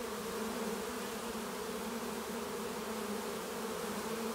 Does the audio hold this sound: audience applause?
no